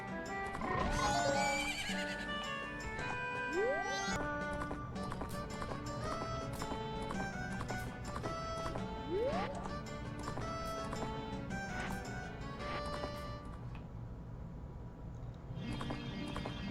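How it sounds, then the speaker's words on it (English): Epona, the horse in the video game Majora's Mask, whinnies several times over the rhythmic clip-clop of galloping hooves, set against game music and effects. "take our little steed, Epona, all over town"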